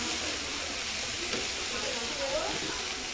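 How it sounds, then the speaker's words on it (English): Coconut catfish steams in a covered pot over slow heat, giving a steady soft hiss with faint bubbling and sizzling throughout. "we're gonna cover that on slow heat and let it steam down for a bit"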